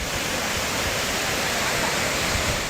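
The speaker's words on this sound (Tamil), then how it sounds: "குற்றாலம் மெயின் அருவியில் வெள்ளப்பெருக்கு ஏற்பட்டது" Flooded main falls at Courtallam roar as a loud, steady, dense wash of rushing water, unbroken throughout and heard close up.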